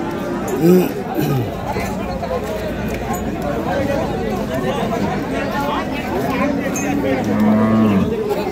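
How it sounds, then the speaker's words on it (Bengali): Dairy cows, Sahiwal, Sindhi and local breeds with calves, moo at an Ambari cattle market, several lowing calls near the start and end over busy crowd chatter and talk. "এখানে যে দুধের গাভী গরুগুলো প্রায় বিক্রয় করা হচ্ছে"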